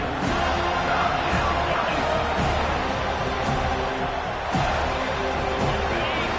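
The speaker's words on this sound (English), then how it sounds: "Here comes this home crowd as the defense tries to get off the field on 3rd down." A home stadium crowd in College Football 25 roars as a steady, dense wall of noise during a third-down defensive stand, with faint thuds and shouts rising out of the din.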